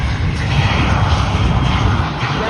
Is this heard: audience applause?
no